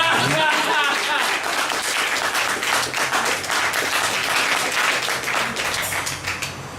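An audience applauds a street poet, with dense clapping from many hands that holds steady for several seconds and then tapers, while a voice speaks briefly at the start.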